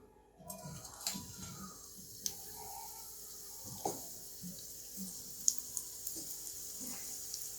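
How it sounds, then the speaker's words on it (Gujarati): Coated soya chunks frying in hot oil over medium heat, a soft continuous sizzle with scattered crackles and small pops, fairly quiet and close, with no talking over it. "તો એમાં સોયાબીનને પહેલાં મીડિયમ આંચ ઉપર જ આપણે ફ્રાય કરીશું"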